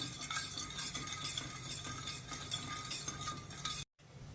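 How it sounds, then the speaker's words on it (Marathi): A spoon scrapes and swirls steadily around a pot of sugar and water, with a continuous gritty stirring noise and a brief silent break near the end. "साखर विरघळेपर्यंत आपण त्याला फिरवून घेऊया हलवून घेऊया"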